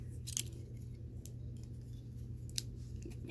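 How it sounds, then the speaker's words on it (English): Snips from a pair of small toy hair-cutting scissors that came with a 2002 Cut and Style Barbie, a few faint, sharp clicks spread over a steady low room hum with no talking. "I need my scissors."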